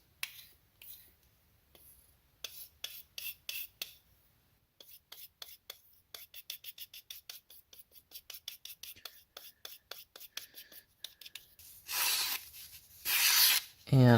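A knife blade of Spyderco PM2 M4 steel is drawn across a test strop loaded with 10 micron compound in a series of quiet, close rhythmic scraping strokes, with a few louder rustles toward the end.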